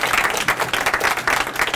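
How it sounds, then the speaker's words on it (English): Audience at a civic engagement dinner applauding, a dense burst of many hands clapping, loud and continuous for a couple of seconds. "I give him a round of applause"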